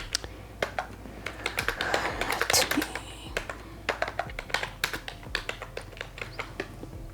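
Fingers typing quickly on a computer keyboard, a steady close run of crisp key clicks with a brief burst of louder tapping midway, continuing alone without speech.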